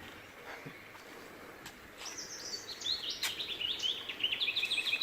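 A nightingale sings outdoors, with rapid, varied whistled phrases that start about two seconds in and grow louder and more continuous. Faint background noise sits underneath.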